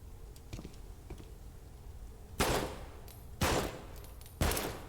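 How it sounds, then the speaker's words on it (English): Three loud, evenly spaced gunshots ring out in the Project Haven video game over a quiet, low background, each a sharp, broadband crack with a short decay. "Three shots."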